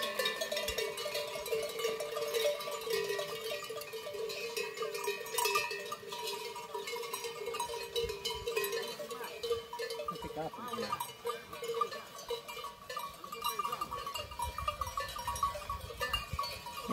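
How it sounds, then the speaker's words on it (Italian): Sheep and goats wearing bells come down to drink at a river, with steady irregular clanking of many bells, a few bleats and light voices in the background throughout. "stanno arrivando le pecore, le capre a bere al fiume, guardate."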